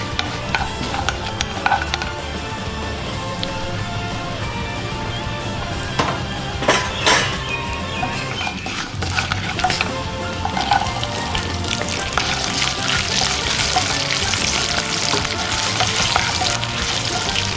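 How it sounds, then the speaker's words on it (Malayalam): Garlic frying in cooked-down masala for a prawn and drumstick butter masala curry gives a steady close sizzle, with spoon stirring and occasional clinks against the pan throughout, growing brighter toward the end. "ചേർത്ത മസാല മൂത്ത് വരുമ്പോൾ അതിലേക്ക് നമുക്ക് വെളുത്തുള്ളി ചേർത്ത് കൊടുക്കാം."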